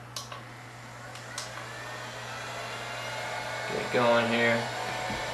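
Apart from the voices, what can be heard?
heat gun blowing on lowest power setting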